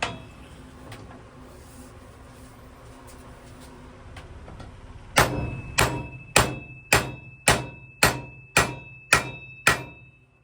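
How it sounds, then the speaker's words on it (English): Ten hard blows from a big framing hammer ring out on metal at a steady, even pace, each strike clanging sharply before a brief metallic ring fades. "I'm just going to hit it with a big old framing hammer."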